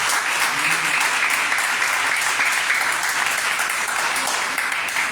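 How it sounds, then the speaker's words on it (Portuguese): A church congregation applauds steadily and loudly, a dense, even wash of many hands clapping that holds for several seconds with no gaps. "Aplauda o Senhor pela vida da Andréia."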